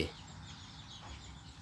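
A mother hen clucks softly on a farm where hens squabble over a nest of eggs, a faint, low, steady murmur with no talking.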